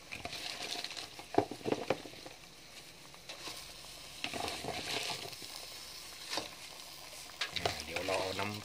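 Vegetables tossed into a sizzling pan of Thai buffalo skin and bean curry and stirred, steady frying hiss with scraping and clatter of utensil against the pot, with faint talk in the background.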